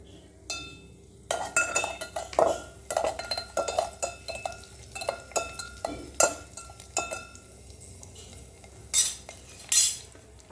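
An onion and chilli powder mixture being stirred in a pan, with a spoon scraping and clinking against the metal in an irregular run of close, sharp knocks and taps.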